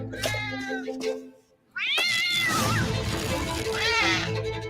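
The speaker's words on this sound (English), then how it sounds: "It's a game about cats." Cats meow loudly and repeatedly in a video game about cats, with drawn-out rising and falling cries, close and clear, mixed with game sounds after a brief quiet gap.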